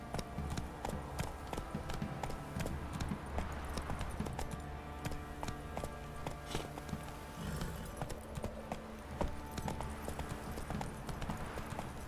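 Steady clip-clop of horse hooves plodding along in The Witcher 3, with a busy background of ambient noise and occasional faint murmurs, continuous throughout.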